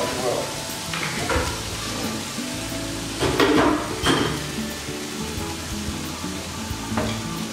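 Chow mein stir-fried with soy and oyster sauce gives a continuous loud sizzle and frying crackle, with clanks and scrapes from a spatula tossing the noodles in the pan. A voice speaks faintly underneath.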